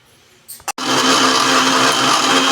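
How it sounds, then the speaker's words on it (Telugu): A kitchen mixer grinder whirs up and then runs at full speed, grinding chilli powder, coriander powder and other spices with water. A steady loud motor whine fills the space after a brief start-up clatter. "ఇప్పుడు మిక్సీకి పట్టుకున్నాం"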